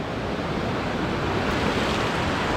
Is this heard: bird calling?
no